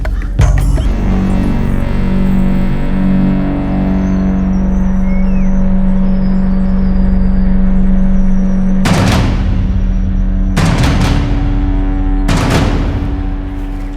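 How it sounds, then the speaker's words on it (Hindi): A vehicle arrives with a steady, loud engine drone and rumble. Three sharp, broadband bangs or slams come near the end, spaced a couple of seconds apart. "सर गाड़ी आ गई।"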